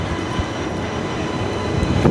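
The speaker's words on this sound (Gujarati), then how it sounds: "તો ફાઇનલી મિત્રો આપણી ટ્રેન આવી ગઈ છે." A passenger train on the Chital to Porbandar line arrives at a station, a continuous low rumble of rolling rail cars with faint wheel clatter, steady and fairly close, growing slightly louder at the end.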